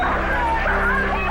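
Dogs bark and yip in a continuous noisy jumble, with crowd babble underneath.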